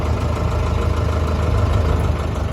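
A JCB backhoe loader engine idles with a steady, loud, low diesel rumble and even throbbing, close by and with no talk over it.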